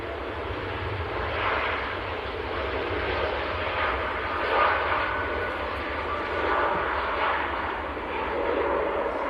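Aircraft departing Manchester Airport on a 5,000-kilometre flight to Jeddah, registration HZ-AR22, heard as a steady, moderately distant jet roar that swells and eases gently without pause, in freezing weather.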